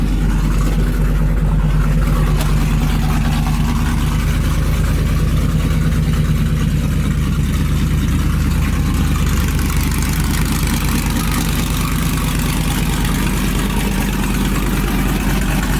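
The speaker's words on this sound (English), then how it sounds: "She's still warming up, so she's idling kind of high right now" A muscle truck engine idling high while still warming up, a loud, steady, continuous low rumble with no voices over it.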